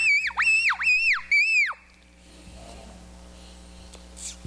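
A game call imitates a seagull with about four shrill, swooping cries in quick succession, loud and close, then quiet room tone.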